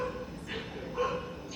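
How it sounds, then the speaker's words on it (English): Langur monkey barking in the background at a roadside tea stall, a few short calls rising over steady ambient noise, with faint voices nearby. "There's langur barking in the background."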